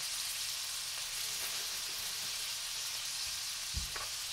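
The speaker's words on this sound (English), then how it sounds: "I'm going to put this in a frying pan that I made bacon in." Chopped onions, about a cup and a half, frying in a hot pan greased with leftover bacon fat, giving a steady close sizzle throughout with a brief clatter near the end and no talking.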